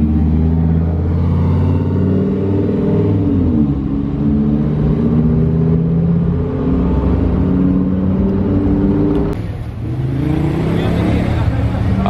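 A Ferrari 458 runs on the street at a Monaco supercar show, its engine a loud, close, steady rumble that swells and eases, with crowd noise around and a brief sharp sound near the end.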